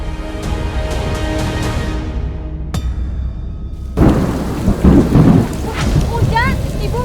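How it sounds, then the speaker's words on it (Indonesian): Heavy rain pours down with rumbling thunder, a sharp crack partway through, and then a louder, gustier rush of strong wind and downpour that builds with rising intensity. "Hujan dan deras banget, angin kencang banget"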